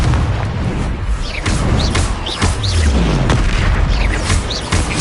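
Repeated Confringo spell blasts in Hogwarts Legacy, several loud booming bursts with whooshing tails spread across the stretch, close and punchy, with no voices.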